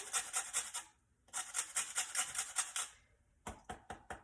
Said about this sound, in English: I am going to add a little bit of lime zest to my plantain